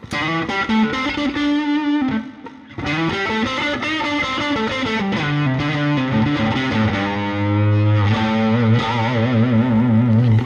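A distorted electric guitar on a Fractal FM3 blues preset, neck pickup, plays a melodic phrase with warm, thick tone and some effects, loud and upfront, with no voices.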